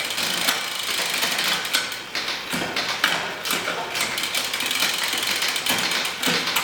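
A bicycle rear derailleur clicks through the gears across the cassette while the drivetrain whirs continuously, with a run of quick ratcheting ticks at close range and no talking.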